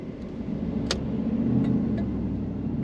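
A 1995 Pontiac Firebird Formula with a six-speed manual cruising along, its engine holding a steady, fairly loud drone from inside the car with a faint click or two on top.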